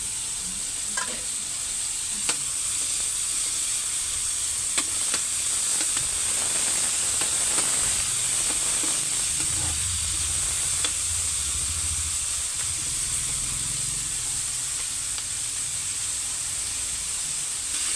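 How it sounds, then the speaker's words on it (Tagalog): Vegetables from Zamboanga sauté in a reduced amount of oil, giving a steady, close sizzling hiss throughout with occasional sharp clicks and scrapes of stirring, and no talking. "magisa na tayo na yan pa rin yung oil na gamit"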